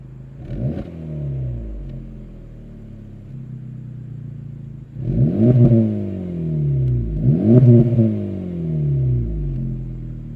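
A 2024 Acura Integra Type S exhaust blares close and loud in a racing video game as the engine revs in three bursts, pitch climbing and falling with each one.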